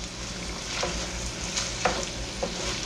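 Onions and beef sizzle steadily in a skillet, a close, even frying hiss with a few soft scrapes of stirring.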